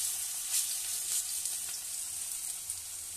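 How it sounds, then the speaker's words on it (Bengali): Spoonfuls of Malabar spinach (pui shaak) fritter batter fry in hot oil with a steady, bright sizzle and soft crackling, close but low in level, with no voices over it. "আমি চামচে করে অল্প অল্প করে এটাকে ভেজে নেব, যেরকম বড়া ভাজে"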